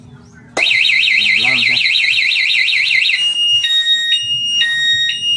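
An anti-theft alarm on a Yamaha WR 155 motorcycle blares a loud warbling siren, then switches to repeating steady beeps in short bursts, while a person speaks briefly over it.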